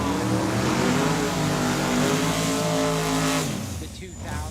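Drag-racing Ford Mustangs, a boxy 2000s car with twin turbos against a newer one with a ProCharger supercharger, roar loudly at the dragway with a sustained engine drone that fades slightly at the end.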